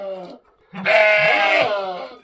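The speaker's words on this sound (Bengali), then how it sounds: "এই দেখো কি বড় বড় ছাগল এখানে।" Large goats bleating at a homestay in Rammam, a short call followed by a louder, sustained wavering bleat close to the listener, with no talk over it.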